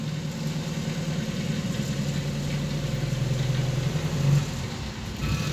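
Volkswagen Jetta engine with a faulty throttle body, idling steadily and close under light throttle, its low hum wavering and dipping briefly near the end as it starts to stall, then recovering.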